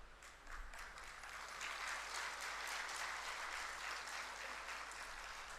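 An audience claps steadily through a spiritual discourse, a dense, faint and somewhat distant patter sustained throughout without a break.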